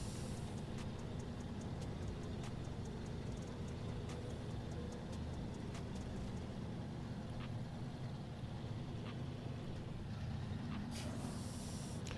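A truck churning slowly through deep mud in the SnowRunner video game, its engine a steady low droning rumble with scattered faint clicks and knocks over the top, continuous and without pause.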